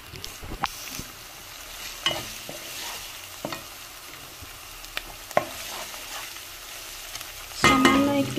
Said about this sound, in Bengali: সামান্য একটু তেল দিয়ে ঘি দিয়েছি আমি, আর এটা একটু নাড়াচাড়া করে নিলাম।